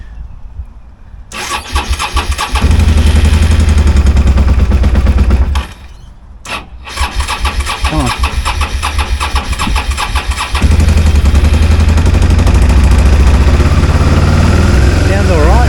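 A first-generation Suzuki SV650 motorcycle in poor condition cranks, stumbles briefly, then fires into a loud, close V-twin idle that revs and holds steady while someone speaks a few words over it.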